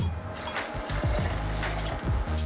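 Cold water pours into a cashew mozzarella mixture with nutritional yeast, roasted garlic and salt, a steady close splashing fill running throughout without speech.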